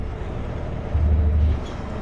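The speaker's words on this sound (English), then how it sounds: "At this speed, the truck's pretty much idling." Truck engine idling as the vehicle creeps along slowly in stop-and-go traffic; a low, steady rumble that swells briefly midway, heard alone without talk.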